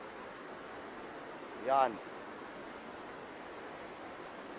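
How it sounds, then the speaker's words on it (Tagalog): Strong floodwater rushes in a steady, broadband roar that stays loud and unbroken, with a brief spoken word rising over it midway. "Ngayon ganun kalakas ang baha. Mas malakas pa kaysa kahapon."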